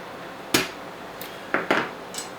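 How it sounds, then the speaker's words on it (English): A hammer drives a locking bolt into a WE AceVD gas blowback sniper rifle: four sharp, close metallic taps at irregular intervals over a quiet background. "I'm going to put it in now, and I'm going to hammer it down"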